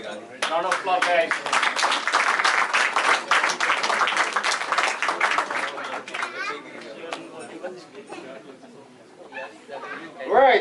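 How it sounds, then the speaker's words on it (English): Applause at an annual cricket club dinner award presentation, sustained clapping from a crowd for several seconds, gradually thinning, with chatter and voices mixed in. "Round of applause, guys."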